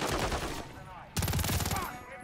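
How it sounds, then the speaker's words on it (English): Enemy automatic gunfire rattles in the Call of Duty: Modern Warfare 3 campaign, with a loud dense burst, a brief lull, then a second sustained volley of rapid shots close by. "There's enemy fire."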